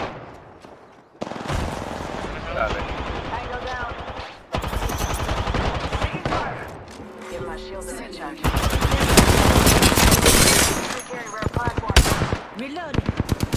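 Gunfire in the video game Apex Legends, with repeated bursts of rapid automatic shots that come close and loud and build to dense sustained volleys near the end, over game effects and some talk.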